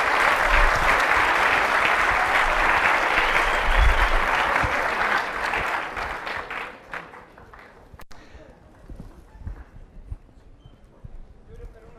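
Audience applause at a women in engineering and sciences award ceremony as a second prize is handed out: loud, dense clapping for about six seconds that thins and fades to scattered claps and room noise.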